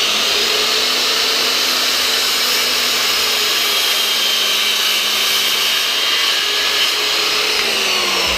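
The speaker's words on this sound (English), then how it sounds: "what I'm doing right now is cutting the 2x4 with a 45-degree angle for a support" A power saw cutting a 2x4 at a 45-degree angle, a loud continuous whine with a steady motor drone throughout and no pauses.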